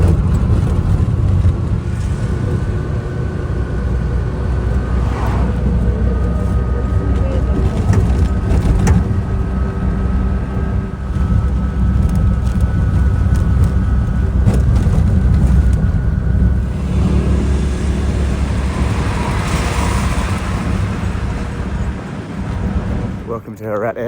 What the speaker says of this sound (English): this is my little rickshaw that we're racing a long way to try to get to the airport